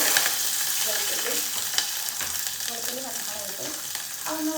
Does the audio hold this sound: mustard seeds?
yes